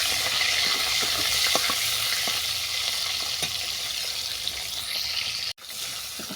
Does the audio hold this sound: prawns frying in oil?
yes